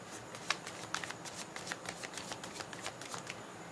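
A deck of tarot cards is shuffled up close in a steady run of soft, rapid riffling flicks, quiet and continuous with no voices.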